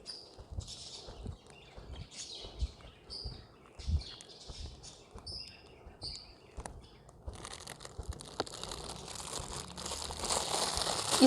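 A plastic shopping bag crinkles and rustles in a home kitchen while a red velvet cake batter is prepared, with sharp bursts of crackling in the first seconds giving way to steadier, louder rustling toward the end.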